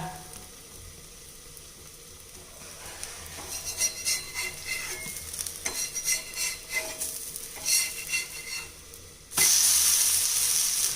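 Spinach (keerai) adai cooks in oil after being flipped: a low sizzle mixes with scraping and tapping from a utensil, then a sudden loud hiss surges in the final second or so.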